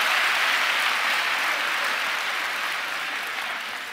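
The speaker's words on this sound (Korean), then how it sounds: "박수 한번 주세요." An audience at a church prayer meeting applauding during a musician's talk. Full, dense crowd applause, loud at first and slowly fading toward the end.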